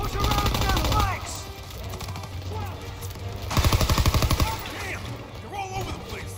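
Machine gun fire in a World War II Call of Duty battle in Germany, 1944, clatters in rapid bursts, with one long rattling volley midway, mixed with scattered shots and voices over the gunfire.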